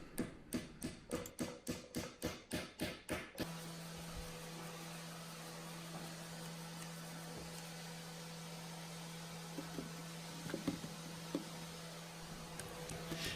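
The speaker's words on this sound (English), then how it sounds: "whenever you're hammering a dowel home, this dowel doesn't go all the way through, and it does have a definite bottom out" Repeated hammer blows drive a wooden dowel home into a walnut mortise and tenon joint of a daybed, about a dozen sharp evenly spaced knocks up close, followed by a steady hum and faint workshop noise.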